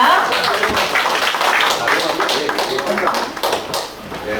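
Audience applause at a startup investment pitch event in Korea, dense continuous clapping filling the hall, steady and fairly loud, fading slightly near the end.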